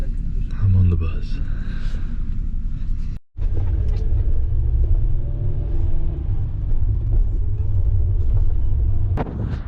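A bus carries passengers toward Chisinau, Moldova, heard from inside as a continuous low engine and road rumble, broken by a brief dropout, while a person speaks over it.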